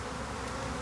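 Bees buzz around a hive on a bunch of bananas outdoors, a dense, continuous droning hum that stays fairly faint and even throughout, with no voices.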